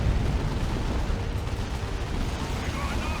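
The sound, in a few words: explosion of proximity mine and barrage in Dawn of War 2 video game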